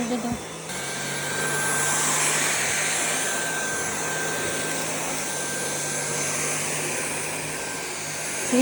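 A Dyson vacuum cleaner switches on after a short pause and runs with a steady, loud, airy roar and a thin high whine. Voices can be heard faintly underneath.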